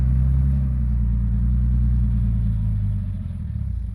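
A Kubota L5018 tractor works soil with a heavy, steady low engine rumble close by, droning without pause and dropping slightly toward the end.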